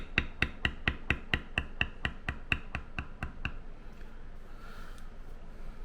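Rapid, evenly spaced mallet strikes on a leather beveler as a tooled flower on a leather kit is bevelled, about fourteen sharp close taps over three and a half seconds, then a quiet pause with faint handling noise.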